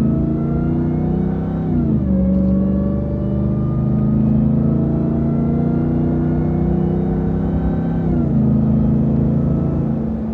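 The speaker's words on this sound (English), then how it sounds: "Listen to that supercharger whine." A 702-horsepower Dodge Ram TRX pickup held back by valet mode accelerates with a loud, sustained engine drone and a tonal supercharger whine climbing in pitch, dropping briefly as it shifts, with no voices.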